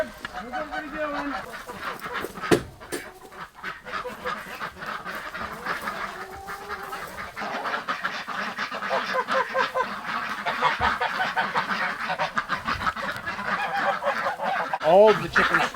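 Geese honk repeatedly with other fowl calling, a busy farmyard chorus that grows louder and denser toward the end.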